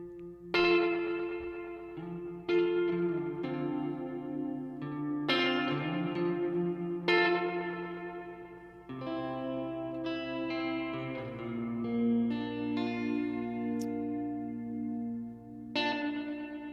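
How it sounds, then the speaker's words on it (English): Guitar-like notes ring out through a Sloer Stereo Ambient Reverb pedal, each one trailing long echoing repeats and a washy, bouncing tail. "you're going to hear lots of bounce and echo in the reverb tail"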